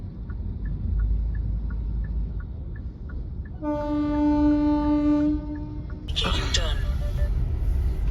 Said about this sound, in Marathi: देखो देखो देखो, ये जा रही है अपनी ट्रेन.